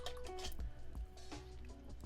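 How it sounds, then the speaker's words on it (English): A paint brush swished and rinsed in a water pot while painting a miniature with Contrast paints, soft close drips and swirls with a few gentle taps and squishes, no talking. "And then we wash the brush"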